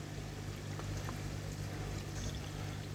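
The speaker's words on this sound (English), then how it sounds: "the water's flowing out now onto the garden" Pond water flowing out of a koi pond onto the garden, a steady low pouring and trickling wash with a constant low hum beneath it, moderately quiet and continuous.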